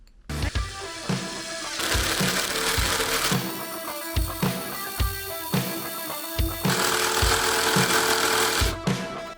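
A GRAND AGU 16BL mini impact driver on first speed drives a 150 mm screw, its close motor whir broken by a steady series of rattling impact bursts with brief pauses between.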